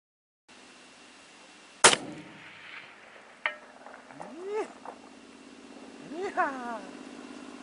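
A single sharp, loud rifle shot from a .30-06 cracks outdoors during long-range reticle testing, followed by faint rolling echoes; a few quieter knocks come later, with brief vocal sounds near the end.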